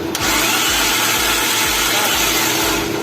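A Perodua Myvi engine cranks over on the starter during a piston compression test, giving a loud, steady rhythmic churning with regular pulses, close by and continuous.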